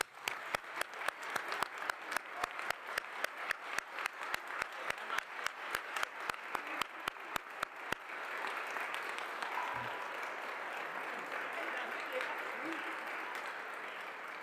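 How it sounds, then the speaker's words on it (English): An audience at a Canadian Space Agency astronaut announcement claps in time for several seconds, then breaks into a broad, sustained round of applause that stays fairly distant and even. "I think we need a round of applause for you."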